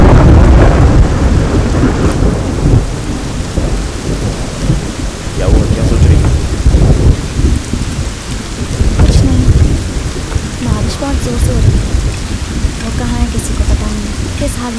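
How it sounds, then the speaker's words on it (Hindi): Heavy rain pours steadily through a dramatic movie scene, with rolling thunder rumbling loud and close and surging in waves, while faint dialogue drifts underneath the storm. "बारिश गिरी है, मतलब हर जगह थोड़ी गिरेगी"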